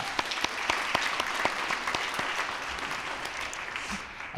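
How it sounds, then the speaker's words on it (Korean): A church congregation claps together during a Sunday afternoon worship service, producing a steady, dense wash of applause with sharp individual claps standing out throughout, fading slightly at the end. "박수로 하겠습니다"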